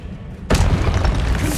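Expelliarmus disarming spell cast in Hogwarts Legacy during a boss fight: after a quiet lead-in, a sudden loud booming burst erupts and holds as a dense, rumbling roar to the end.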